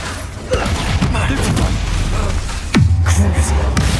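Expulso explosion spell cast in Hogwarts Legacy on PS5, a loud booming blast that lands amid continuous dense game combat noise, with a deep rumbling tail after the hit.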